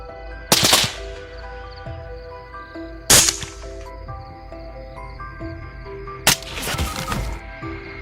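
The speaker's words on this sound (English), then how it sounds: "The continuous gunshots echoed throughout the field" Three loud, sharp gunshots crack out several seconds apart during a night wild boar hunt in a field, each followed by a brief ringing echo over a low background hum.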